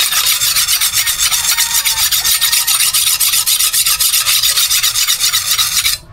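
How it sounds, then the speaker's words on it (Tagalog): A wooden tree branch is sharpened by rubbing its side, giving loud, close, rapid rasping strokes in a steady rhythm for about six seconds before stopping. "kukuha na lang tayo ng sanga ng kahoy, tapos yung gagawin natin talian, hasain lang natin ito sa gilid"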